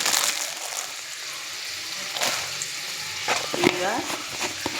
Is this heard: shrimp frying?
yes